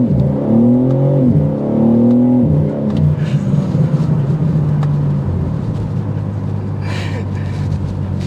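A 2024 BMW M3 CS pulls hard under acceleration, engine and exhaust droning with rising and shifting tones close by, steady and loud throughout.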